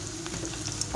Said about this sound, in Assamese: এইদৰে লৰাই লৰাই ভাজি থাকিব।